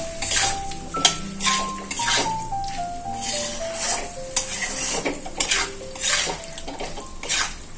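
Chicken pieces stir-fried in a pan, with a low sizzle under repeated metal clanks and scrapes of a spatula against the pan, loud and close.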